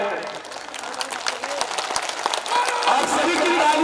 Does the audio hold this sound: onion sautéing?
no